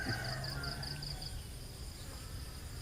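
Oriental fruit flies buzzing around a fly trap outdoors, a steady insect drone with a thin high whine that fades after the first second over low background rumble.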